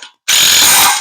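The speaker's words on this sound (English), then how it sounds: "That's good calibration on the torque wrench." A torque wrench gives a single sharp ratcheting click burst after a brief silence, loud and close, while tightening oil pan bolts on a 1968 Chevelle with a Holley 302-3 oil pan.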